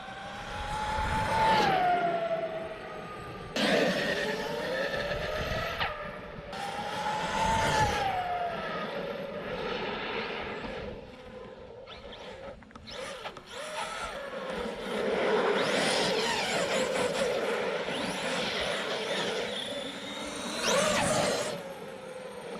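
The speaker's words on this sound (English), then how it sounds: "I hear the ESC cutting out a little bit from the amp draw." An Arrma Kraton 8S RC car with a fan upgrade and gearing up drives in bursts, its motor whining up and down in pitch while the ESC cuts out intermittently under high amp draw.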